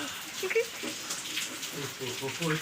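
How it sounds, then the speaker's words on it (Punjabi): Heavy rain pours outside with a dense, steady hiss and patter on surfaces, heard close, with brief voices talking over it. "ਕਿੰਨੀ ਮੀਂਹ ਪਈ ਜਾਂਦਾ ਬਾਹਰ"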